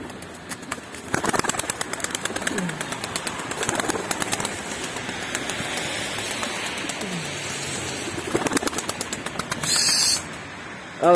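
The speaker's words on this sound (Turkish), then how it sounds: "Antalya'da kar yağarken kuş uçurdu." Pigeons released into falling snow in Antalya flap their wings in several short bursts, moderately close, against a soft steady background hiss.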